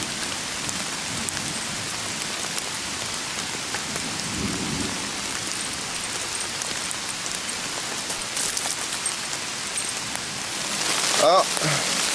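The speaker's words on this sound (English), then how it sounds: "It's freaking raining like crazy though." Heavy rain pours in the woods during a thunderstorm, a loud, steady broadband hiss with a brief low rumble about a third of the way in.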